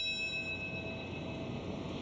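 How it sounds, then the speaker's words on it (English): A bell tolls at the 9/11 anniversary memorial ceremony at the World Trade Center site in New York, its faint ringing tones lingering steadily over low background noise. "The sound of a bell marking the moment a plane hit the North Tower of the World Trade Center"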